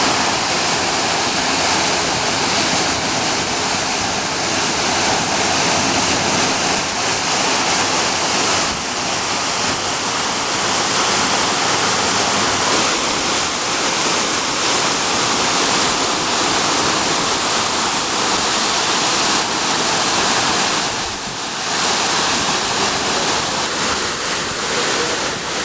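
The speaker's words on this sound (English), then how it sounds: "the waterfall enters a pool" Aravelam waterfall in Goa, India pouring into a pool, heard as a dense, loud, unbroken roar of rushing water, close and steady throughout with no voices.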